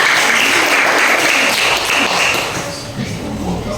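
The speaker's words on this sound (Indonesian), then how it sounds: "Berikan tepuk tangan." A classroom group of students breaks into brisk clapping, loud and close for a couple of seconds before thinning out into scattered claps and soft room noise.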